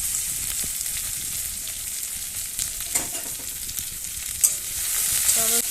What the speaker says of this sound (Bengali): এটা ভাজা হতে থাক ভাজা হতে থাক